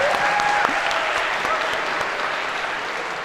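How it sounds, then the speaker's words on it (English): A lecture hall audience at an introductory computer science class breaks into applause, loud dense clapping that fades slightly toward the end, with a faint voice tone near the start. "A round of applause,"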